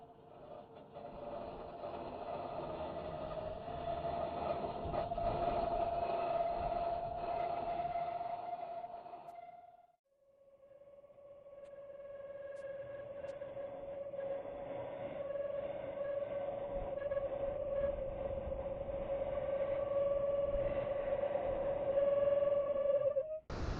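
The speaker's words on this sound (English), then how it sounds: "let's go ahead and give the spindle roughing gouge a try" A wood lathe spins a workpiece while a Bauer spindle roughing gouge cuts it, giving a sustained tonal hum with a rough scraping texture. The sound briefly drops out near the middle, then resumes and builds steadily louder.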